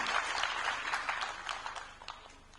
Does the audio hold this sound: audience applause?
yes